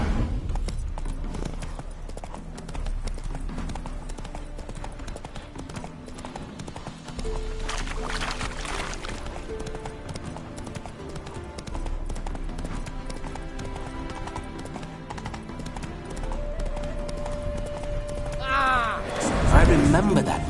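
Roach, a horse in The Witcher game, clip-clops with steady hoofbeats throughout, ending in a brief whinny, while in-game characters talk over the footsteps.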